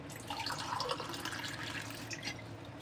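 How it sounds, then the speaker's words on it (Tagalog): Water poured into a cooking pot while making bean curd dessert, a steady close-up splashing and trickling with faint drips, no voices. "dagdagan natin ng kunting tubig"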